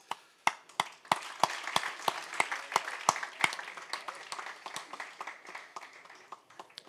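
Applause from a banquet audience, fairly distant: sharp individual claps stand out over a steady wash of clapping that gradually fades toward the end.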